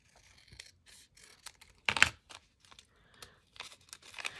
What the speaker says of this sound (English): I think I'm gonna cut right into it.